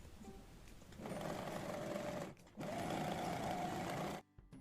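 A sewing machine stitching saree fabric runs in two steady, buzzing stretches separated by a brief pause, close and moderately loud, then stops abruptly.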